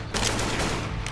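Gunfire in a swamp-set video game, a quick dense rattle of automatic shots, loud and continuous across the short moment, with no talk over it.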